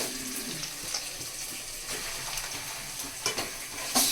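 Chicken pieces sizzle in a hot pan for a spicy chicken curry, a constant crackling fry with occasional scrapes and clinks of stirring, fairly close and moderately quiet.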